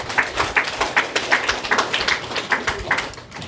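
An audience at a lecture claps together in a steady patter of many hands, moderately close and fairly loud, dying down toward the end.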